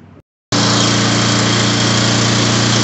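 A Honda GX390 engine on a Roofmaster roof cutter abruptly roars to life after a short silence and holds a loud, steady, high-pitched run right up close.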